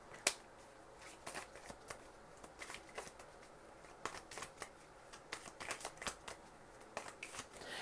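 Tarot cards being shuffled by hand, a steady run of soft riffling and flicking snaps, close and quiet with no talking.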